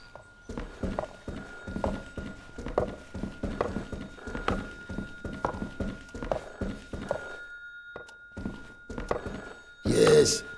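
In the video game The Berlin Apartment, a telephone rings through an apartment over steady, close footsteps thudding on the floor, and a louder burst of noise comes near the end.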